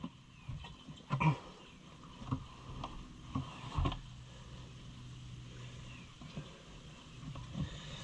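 An old tractor's engine runs with a steady low rumble and occasional louder knocks and clunks, fairly quiet and unbroken by any voices.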